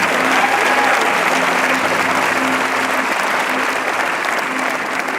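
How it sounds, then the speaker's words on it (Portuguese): A congregation at a sermon gives sustained, steady applause, a full roomy wash of many hands clapping with only a faint murmur beneath. "Pode aplaudir"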